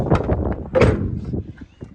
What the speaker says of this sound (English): Let's shut these doors